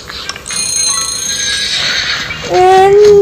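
A horse in the PK XD mobile video game gives a short, bright electronic whinny, with chiming game sounds around it and a clear, loud call near the end.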